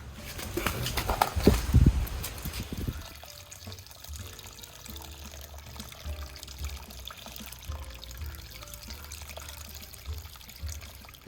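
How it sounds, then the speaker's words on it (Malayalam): Water pours into an air-pot plant container in a brief splashing burst near the start, then quieter trickling and dripping continue with faint background noise. "കുറച്ച് വെള്ളം കൂടി ഒഴിക്കുകയാണ്"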